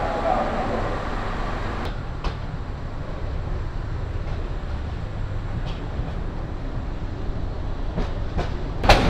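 The Burimari Express train running, a steady loud rumble of wheels and carriage noise from inside, with occasional sharp clicks over the track.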